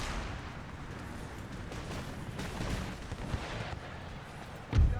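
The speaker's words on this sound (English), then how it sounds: "Mortars, mortars, mortars, mortars, mortars, mortars." Mortar artillery pounds away in a Empire Total War battle, a dense continuous rumble of distant shots and crackling fire topped by a heavier close boom near the end.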